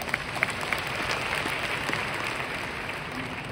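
Audience applause at a leadership training seminar in a large hall, a dense steady patter of many hands clapping at a moderate, even level throughout.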